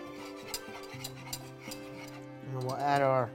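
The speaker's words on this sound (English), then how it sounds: "I'm gonna whisk that all in there together." A whisk scrapes and clinks against a pan as flour is worked into the mixture, light rhythmic stirring taps, then a brief voice near the end.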